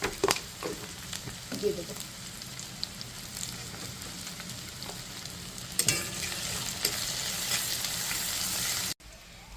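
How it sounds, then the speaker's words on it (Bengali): Onions sizzle steadily in a pan for khichuri, with scattered stirring scrapes and a brief spoken remark near the start. "তো পেঁয়াজটা ভাজা শেষ"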